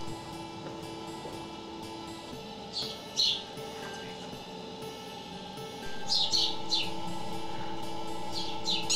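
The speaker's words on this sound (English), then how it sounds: "These baby birds are helpless, born naked, and cannot control their body temperature" Several bursts of high, thin chirping from helpless, naked baby birds at a wildlife rehabilitation centre, coming in short clusters over a steady low hum, louder toward the end.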